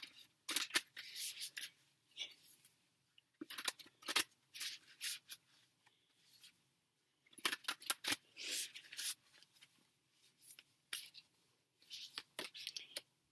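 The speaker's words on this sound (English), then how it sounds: "I'm going to get the cards out" Tarot cards being taken out and handled, soft close papery rustles, slides and flicks in irregular bursts separated by short pauses, fairly quiet and with no talking.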